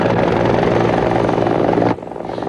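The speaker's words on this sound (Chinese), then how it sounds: "直升机缓缓起飞，准备巡逻" Loud, steady rotor and engine roar of a patrol helicopter lifting off, continuous and close, dropping abruptly in level near the end.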